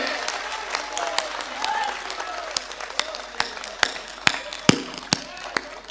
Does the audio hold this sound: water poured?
no